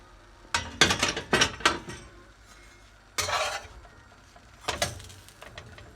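Metal clanks and scrapes as a pot lid is lifted off a tray of homemade lahmacun, a quick cluster of clinks followed by two duller knocks, close and fairly loud.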